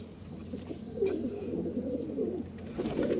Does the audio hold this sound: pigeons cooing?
yes